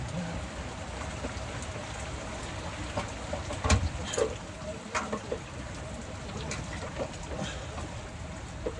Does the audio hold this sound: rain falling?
yes